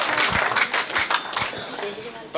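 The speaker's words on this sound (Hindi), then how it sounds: "एक बार पूरा सदन जोरदार तालियां बजा करके सूचित करे" Audience clapping at a Hindi comic poetry gathering, a dense patter of hands filling the hall with loud voices and cheers mixed in throughout.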